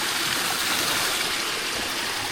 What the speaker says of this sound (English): A little bit of a waterfall here.